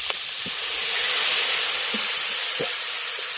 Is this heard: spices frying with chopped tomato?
yes